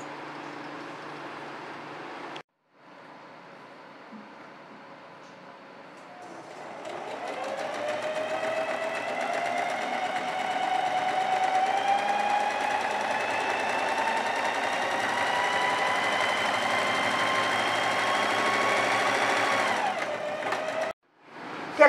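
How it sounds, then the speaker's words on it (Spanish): An overlock sewing machine stitching the side seams of a dress, its motor whirring up after a brief pause and humming steadily and close for many seconds before stopping abruptly. "Realizamos costura con overlock en los dos laterales."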